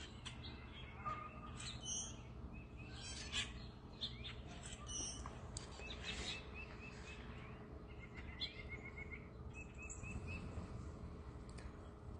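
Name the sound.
birds, doves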